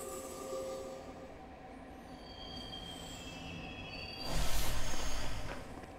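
A passenger train rolls along in Persona 3 Portable, with a steady low rumble inside the car, thin high wheel squeals, and a louder surge of rushing noise near the end.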